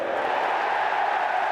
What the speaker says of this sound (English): This crowd starts to fire up.